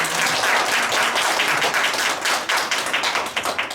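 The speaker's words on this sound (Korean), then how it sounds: "박수 한번 부탁드립니다" Dense, steady applause from an audience at a Korean presentation on Suwon's shared community refrigerators, many hands clapping continuously and loudly throughout, thinning slightly toward the end.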